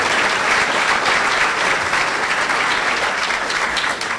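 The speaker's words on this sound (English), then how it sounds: "Give her a round of applause." An audience at a scholar-athlete awards luncheon applauds an award recipient with steady, dense clapping that fills the room and holds at full strength throughout.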